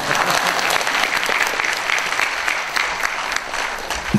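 An audience at a Korean book launch event breaks into loud, sustained applause. The clapping is dense and continuous throughout.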